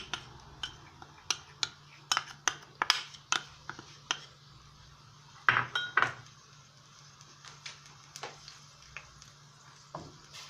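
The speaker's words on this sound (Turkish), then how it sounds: "Unumuzu güzelce kavuralım. Pembeleşene kadar ara ara böyle karıştıralım." A spoon stirring flour toasting in a little oil in a pot, with a run of sharp scraping clicks against the metal over a faint sizzle.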